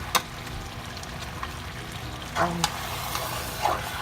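A spoon stirs collard greens with chicken and turkey in a pot, soft bubbling and a quiet simmer underneath, with a few light clinks and scrapes.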